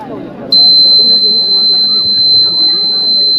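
A school science exhibition earthquake alarm model sounds a sudden, loud, steady high-pitched electronic tone that switches on abruptly and holds continuously, with people talking beneath it.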